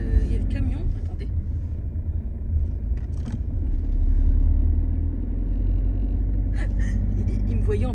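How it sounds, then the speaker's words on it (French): A garbage truck in a residential street gives off a low, steady engine rumble, swelling slightly midway, with intermittent scraping and clanks as it stands nearby. "Là, en ce moment, là, il y a le camion."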